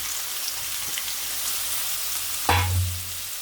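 Onion and tomato sauté in a pan under a dense, steady frying hiss, with a stirring scrape and a louder surge of sizzle near the end.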